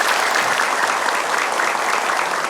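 A studio audience at an Islamic religious television program claps steadily and densely throughout, a sustained wash of applause close by with no break.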